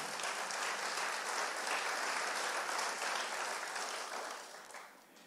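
Congregation at a Sunday church service applauding steadily for about five seconds, a dense even wash of clapping that fades slightly toward the end, with no talk over it.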